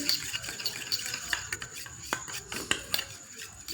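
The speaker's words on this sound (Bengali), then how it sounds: "ভালো করে তেলে আর ময়দাটা ভালো করে মিক্সড করে নিচ্ছি" A spoon scraping and clinking against a bowl while oil and flour are stirred into a paste for paper paratha, light repeated taps and rubbing, close and fairly quiet.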